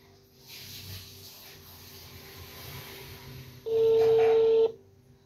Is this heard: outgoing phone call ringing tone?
yes